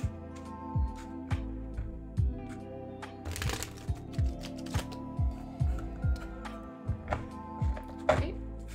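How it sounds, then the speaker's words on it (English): A deck of reading cards being shuffled by hand, a run of soft riffling and tapping clicks with a few louder slaps, close and fairly quiet over a steady low background hum. "Let me shuffle one more time."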